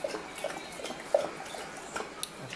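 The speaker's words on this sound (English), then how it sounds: "That's my dog drinking water." A dog laps water in quick, faint, irregular wet licks and drips, close by but quiet against a low indoor background.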